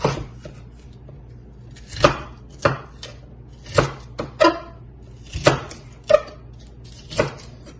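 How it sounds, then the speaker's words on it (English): A knife slices peppers on a cutting board in a series of sharp, close chops at uneven intervals, each a crisp knock against the board, with no talking. "then I'm gonna slice my peppers"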